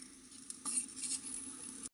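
Jackfruit seeds roasting in a pan for chammanthi, a soft continuous sizzle with light stirring and a faint scrape near the middle, cutting off abruptly at the end.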